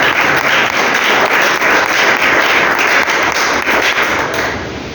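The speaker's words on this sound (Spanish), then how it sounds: "Denle un fuerte aplauso a la bendición de la casa." Loud, dense applause from a church congregation, sustained clapping that fills the whole stretch and tapers slightly at the end.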